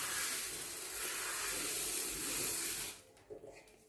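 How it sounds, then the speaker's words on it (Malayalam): Coriander seeds roast in a hot pan for a homemade meat masala, giving a loud, close sizzling hiss that cuts off abruptly, leaving faint clinks and quiet room sound. "മല്ലി തന്നെയാണ് വറുക്കുന്നത്."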